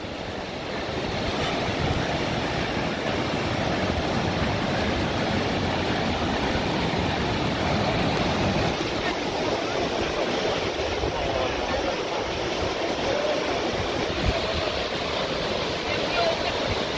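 Sweden's highest waterfall roars as a constant, loud broadband rush of falling water heard up close, with faint wind and no clear voices.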